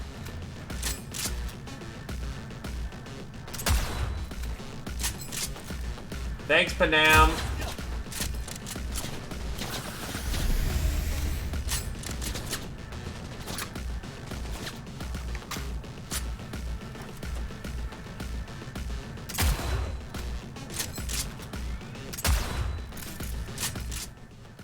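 Gunfire in Cyberpunk 2077, with repeated sharp shots spaced through the scene alongside a steady rumbling game soundscape, plus one burst of rapid fire, while a voice speaks briefly.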